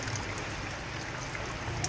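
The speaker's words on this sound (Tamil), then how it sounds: "குளம் நிரம்பி சாலைகளில் மழைநீர் பெருக்கெடுத்து ஓடி வரக்கூடிய அந்த காட்சிகளை பார்த்து வருகிறோம்" Rainwater from an overflowing pond runs through flooded streets in Nagapattinam during the monsoon, a steady broadband rush and trickle that holds even and continuous with no voices.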